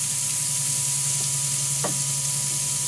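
Hamburger patties cooking on a Power Smokeless Grill, a soft steady sizzle and hiss at moderate level with a low hum underneath and one brief clink partway through.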